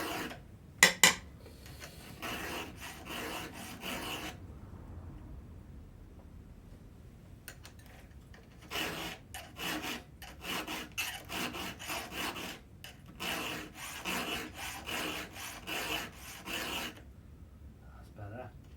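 A file rasping along the chain of a Husqvarna 572xp chainsaw, cutting work in rhythmic bursts of quick strokes, two long runs separated by a quiet pause, close and fairly loud with no talk.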